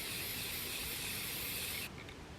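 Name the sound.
spray painting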